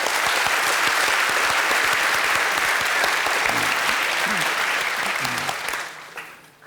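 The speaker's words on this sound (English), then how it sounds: "Please, an applause for all of our panelists." A panel audience at the Perimeter Institute for Theoretical Physics in Ontario bursts into loud, dense applause that holds steady for several seconds before tapering off near the end.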